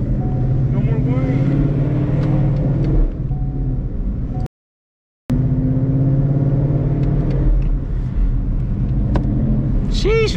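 A Ford Cobra engine runs with a freshly installed MT82 manual transmission, a steady loud rumble with slight revving and whine, cut by one brief silent dropout midway.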